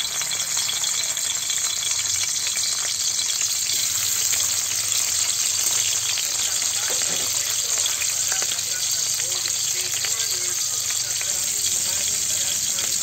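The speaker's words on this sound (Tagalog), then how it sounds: "Sa pinagprituhan ng talong, dito rin tayo magpiprito ng isda." Fish frying in hot oil in a pan already used for frying eggplant gives a steady, close crackling sizzle that holds evenly throughout, with no one talking.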